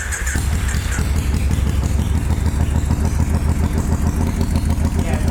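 An Orange County Choppers motorcycle engine runs rough with a throttle fault, chugging and clattering in a loud, uneven rhythm close by, with people talking over it.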